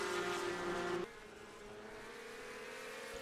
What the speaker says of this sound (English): And Lisa finally clears the O2 car